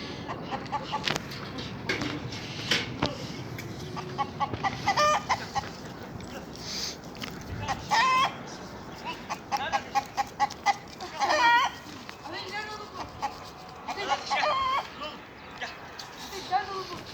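Chickens cluck and squawk intermittently in the background while people talk close by over outdoor ambience.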